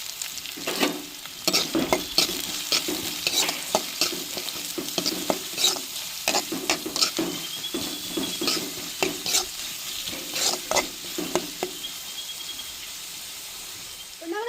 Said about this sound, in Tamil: எட்டு பெரிய வெங்காயத்தையும் சேர்த்துக்கிறோம் நட்டு வச்சுருக்க வெள்ளைப்புடையும் சேர்த்துக்கிறோம்